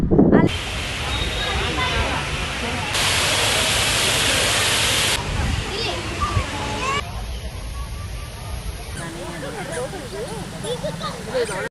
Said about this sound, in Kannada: ಕೆನಲಲ್ಲಿ ನೀರು ತುಂಬಿ ಹರಿತದೆ.